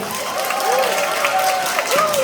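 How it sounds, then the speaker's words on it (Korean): Wedding guests at a Seoul wedding hall applauding and cheering together, a sustained wash of clapping with raised voices and whoops running throughout. "자, 큰 박수와 환호성 부탁드립니다"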